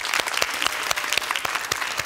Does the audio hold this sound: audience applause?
yes